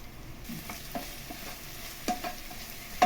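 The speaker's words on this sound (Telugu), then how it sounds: "ఉల్లిపాయ, ఉల్లిపొందు ఇలా ఫ్రై అయిన తర్వాత" Sliced onions and spring onions frying in a pan on a shrimp curry base: a continuous close sizzle with repeated spatula stirs and scrapes, alone with no voices.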